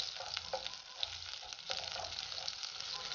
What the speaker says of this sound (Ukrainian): В кастрюльку я дала 30 грам масла і розтоплюю його.